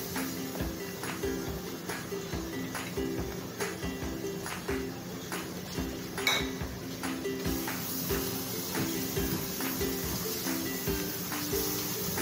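A spoon stirs condensed milk into browned vermicelli in a pan, making steady rhythmic scraping taps against the metal, close and continuous, with no talking.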